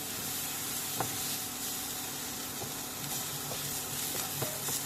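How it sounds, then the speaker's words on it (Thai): Rice stir-fried in a pan before boiling for Thai rice soup gives a dense, continuous sizzle and hiss with occasional spatula scrapes and taps, close and steady, no talking. "ผัดให้มันหอมหอมหน่อย"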